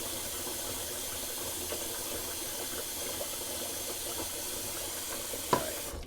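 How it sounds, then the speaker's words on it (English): Water runs steadily from a tap into a sink in a bathroom before a shave, a constant soft hiss with one brief knock near the end. "Sorry about that water running on."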